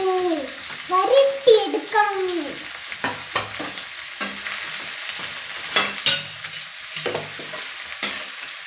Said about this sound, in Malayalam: ഈ സവാള കറിവേപ്പില സൈഡിലേക്ക് മാറ്റി വെച്ച് കുറേ സവാള വരട്ടിയെടുക്കണം